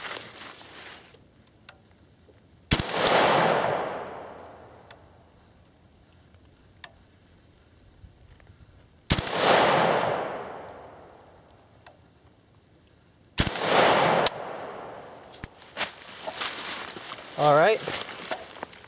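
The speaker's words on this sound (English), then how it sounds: "So we'll shoot another group and see where we're hitting." Three loud, sharp rifle shots fired outdoors at a target during an accuracy test of a rifle fitted with a UTG riser mount. Each crack is spaced several seconds apart with a long echoing decay, and a voice is heard near the end.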